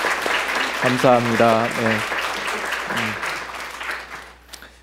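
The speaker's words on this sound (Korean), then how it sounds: "우리 찬양대에도 격려의 박수 한번 부탁드리면 좋겠습니다" A congregation at an Easter Sunday service in a Korean Presbyterian church applauds the choir, the clapping sitting under a man's spoken thanks and tapering off toward the end.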